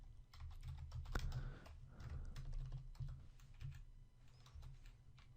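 Quick, steady keystrokes rattle on a computer keyboard while Bootstrap web code is entered, a dense run of soft, close clicks with slight pauses and no talking.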